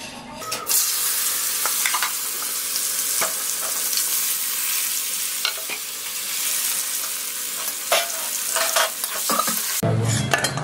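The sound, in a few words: bitter gourd frying in oil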